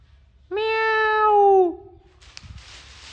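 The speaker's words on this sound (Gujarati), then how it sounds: "મસ્તીનું મીંદડું બેઠું હે જો ઝૂમ કરીને બતાવું" A single long, drawn-out cat meow rings out close by, followed by quiet rustling.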